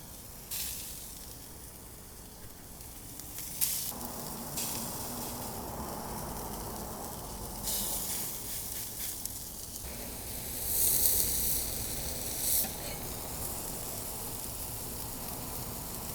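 Ahi tuna steaks sizzle in hot avocado oil over high heat, a steady close hiss holding for several seconds with brief louder spits and crackles.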